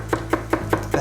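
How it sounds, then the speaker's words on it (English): A knife thinly slices celery on a cutting board for yakisoba, striking in five evenly spaced, crisp chops about a fifth of a second apart, close and clear over a low steady hum, with no talking. "when you cut celery nice and thin"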